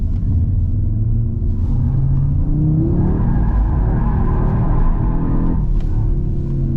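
An Audi RS3 Performance Edition in its drift mode gives a deep, steady engine rumble from inside the cabin, rising as it revs through a slide, with a brief shift near the end.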